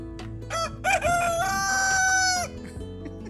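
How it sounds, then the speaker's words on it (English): A Rhode Island Red rooster named Hey Hey crows close and loud on a homestead, a rising cock-a-doodle-doo held for over a second, with a few clucks before and after. "You gonna crow for us?"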